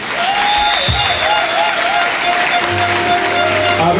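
A church congregation applauds loudly and continuously, with the clapping merging with sustained organ or keyboard tones and a low bass note entering partway through.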